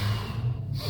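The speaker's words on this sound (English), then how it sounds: "you can easily start with just 10 deep breaths" A single deep breath drawn close to the ear, a loud airy inhale through the nose and mouth that carries on into a breathy release, with no talking over it.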